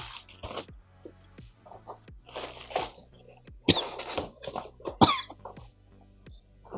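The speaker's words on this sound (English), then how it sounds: "Faint cough coming on." Several throaty coughs in separate bursts, some close together, over a quiet background hum.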